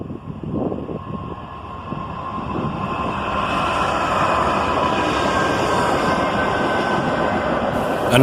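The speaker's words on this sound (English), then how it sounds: "Another southbound manifest train, led by an ES44DC and an ET44AH." A southbound CSX manifest freight train led by ES44DC and ET44AH locomotives rolls past behind bushes, a loud steady rumble of wheels and cars building slightly as it continues.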